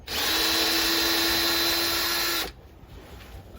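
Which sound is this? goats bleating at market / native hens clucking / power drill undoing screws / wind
power drill undoing screws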